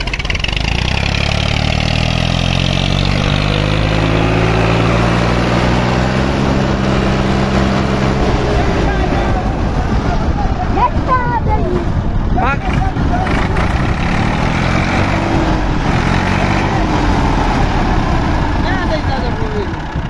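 A stuck tractor's engine labors and strains loudly up close at a brick company, chugging and revving unevenly while people talk over it.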